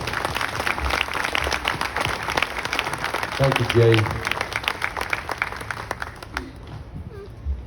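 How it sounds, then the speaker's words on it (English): Audience applause at a Savannah St. Patrick's Day 2022 gathering honouring veteran ancestors, a dense patter of clapping at moderate level with a voice speaking briefly over it near the middle before the clapping thins out toward the end. "Please give me a round of applause."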